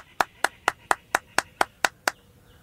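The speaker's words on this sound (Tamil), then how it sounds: "கைத்தட்டுவோம்." Nine sharp, evenly spaced single hand claps ring out close and crisp at a steady rhythm, each one a distinct clean smack with silence between, then they stop.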